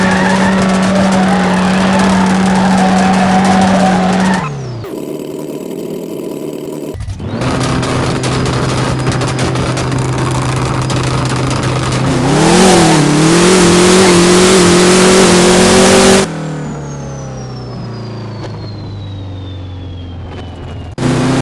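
Drag car launches with tire spin in No Limit Drag Racing 2.0. Loud, sustained engine revving and tire squeal rise and shift pitch across several runs, with a brief quiet gap between passes.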